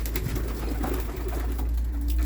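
A pigeon coos softly over a steady low hum and background noise.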